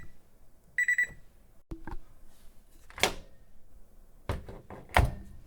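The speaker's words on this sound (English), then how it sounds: "that was the microwave door opening and closing" A kitchen microwave oven door clicks open and thumps shut in a few sharp, close knocks, with a short beep near the start and quiet room tone between.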